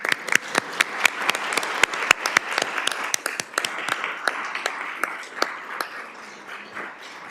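A small audience at a school district governing board meeting claps, the sharp individual hand claps standing out irregularly over a softer spread of clapping that gradually thins out.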